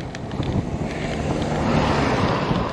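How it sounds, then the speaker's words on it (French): Strong wind roaring steadily across the microphone during a bicycle ride through the Vendée countryside, a dense continuous rush with no voices. "il y a pas mal de vent"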